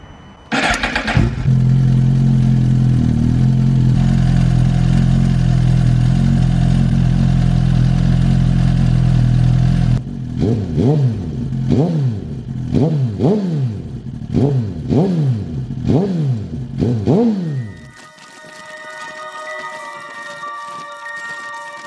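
A motorcycle engine fitted with a Brock's PipeWerx performance exhaust cranks and fires, idles loudly and steadily, then blips through a series of sharp rhythmic revs before cutting off into a quieter tail.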